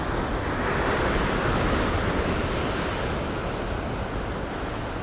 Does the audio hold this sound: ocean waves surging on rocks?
yes